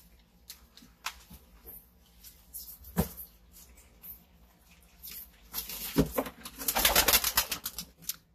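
Tippler pigeons coo in low, soft bursts in a loft, mixed with fluttering wing flaps and scattered scuffling, growing busier toward the end.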